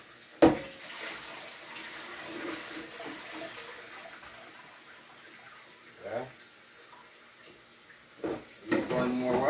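Rice being washed by hand, rubbed and swished in a bowl of water in a home kitchen, with faint steady sloshing and a few louder splashes and clatters.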